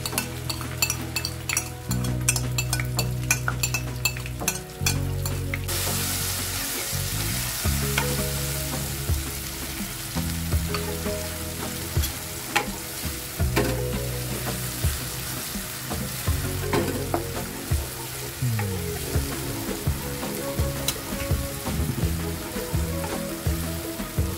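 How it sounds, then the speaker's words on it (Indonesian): Spice paste sautés in a little hot oil for spicy beef teriyaki, with a steady, bright sizzle, occasional clinks of a utensil against the pan and tonal background music running beneath. "Langsung aja kita tumis bumbunya terlebih dahulu."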